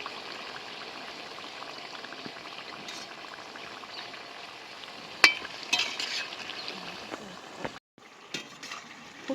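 Ripe jackfruit and banana fritters fry in plenty of oil, giving a soft, steady sizzle and bubble that runs throughout, broken by a few sharp clinks and scrapes near the end.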